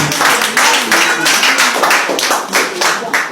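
Clapping hands at a church worship service, a steady run of rhythmic claps rising and falling in bursts over several seconds, fairly loud, with voices mixed in underneath.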